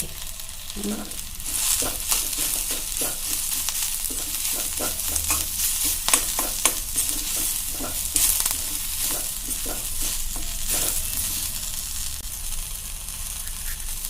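Turmeric powder and garlic fry in a pan for ridge gourd chutney, a steady close sizzle broken by repeated scraping stirs of a spoon, with no talk.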